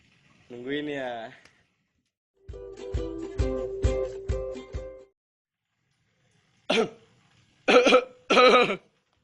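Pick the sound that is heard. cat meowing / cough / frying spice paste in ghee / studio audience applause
cough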